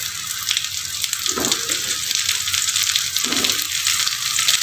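Tempeh frying in a hot pan, a steady bright sizzle throughout with a couple of brief lower bubbling or stirring bursts, close and loud.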